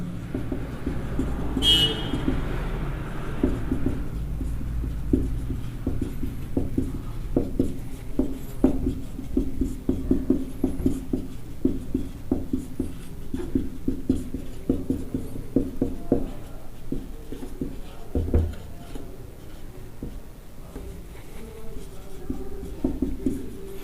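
Hand writing during a Class 10 maths geometry lesson: a soft continuous scratching of pen or chalk strokes, close and fairly quiet, with a brief honk-like sound near the start and a low room hum beneath.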